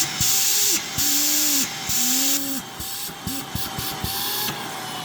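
A Honiture H8 cordless vacuum cleaner runs during a suction test, its loud, close motor hiss cutting in and out in short bursts alongside rising and falling whining tones.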